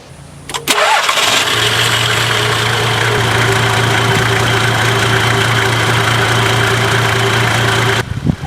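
A Toyota Troopy engine cranks, catches and settles into a loud, steady idle close by, with a constant mechanical hum and drone running to the end, no voices.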